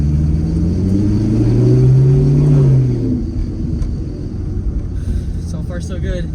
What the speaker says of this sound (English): First drive on the main road for the Grand Sport.